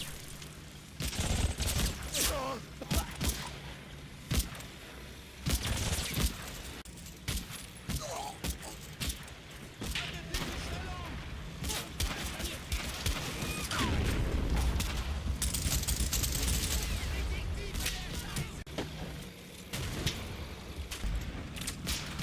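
Scattered rifle and machine-gun fire from a firefight in the Combat Mission Final Blitzkrieg game at Ferme Diedenhove, with irregular loud cracks and bursts over a rumbling battlefield background, no talk heard.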